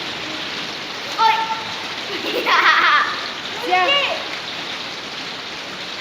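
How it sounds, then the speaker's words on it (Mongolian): Heavy rain falls on the road to a national park as a constant dense hiss and patter. Children and adults speak and call out briefly over it. "Бороотой өдрийн зугаалга гэж."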